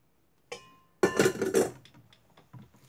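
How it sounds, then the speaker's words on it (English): Lye solution being poured and stirred into a coconut milk soap batch in a container, a brief clink at the start, then a loud burst of sloshing, clattering mixing and knocking of utensil against the vessel that fades to scattered small taps. "So now I have this lye solution. I'm going to go ahead and mix this in."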